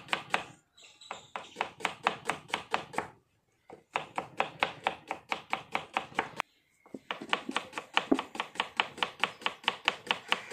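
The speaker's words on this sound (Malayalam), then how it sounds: "അതുപോലെ മുഴുവനായിട്ട് നമുക്ക് ആദ്യമായിട്ട് അരിഞ്ഞെടുക്കാം" A knife chops onions on a cutting board for beef dum biryani: close, crisp, rapid strokes in even rhythmic runs, broken by two short pauses.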